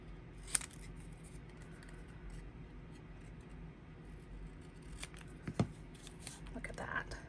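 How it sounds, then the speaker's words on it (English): Scissors snip the ends of a paper strip while making Christmas cards, a couple of faint, sharp isolated cuts against a quiet room. "Because then I can snip the ends however I want them."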